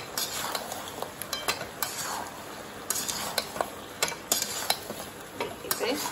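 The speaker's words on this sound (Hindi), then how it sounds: "और हमने जो पनीर तला हुआ है वो इसमें डाल देंगे, इसे मिक्स करेंगे।" Fried paneer being stirred into sauce for paneer chilli, with steady sizzling and repeated sharp scrapes and clinks of a spoon against the pan.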